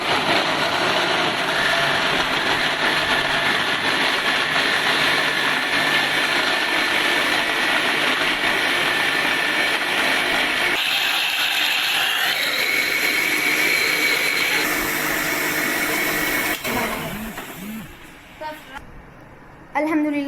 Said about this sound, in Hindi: आप इसको ब्लेंड करेंगे।